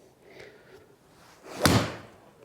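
A golf club strikes a golf ball once on a practice swing, giving a single sharp, crisp impact crack that stands out clearly above faint outdoor background noise.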